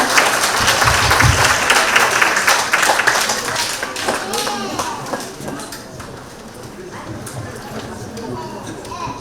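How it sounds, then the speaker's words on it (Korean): An audience at a children's national poetry recitation contest gives a dense burst of applause that fades over several seconds, after which a voice speaks over a few lingering claps. "박수 한번 부탁드리겠습니다."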